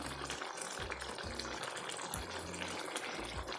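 Hot water pours steadily into a simmering brinjal and potato curry, a continuous splashing gush with a faint low hum beneath it.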